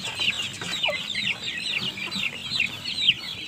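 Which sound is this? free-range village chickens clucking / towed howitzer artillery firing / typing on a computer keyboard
free-range village chickens clucking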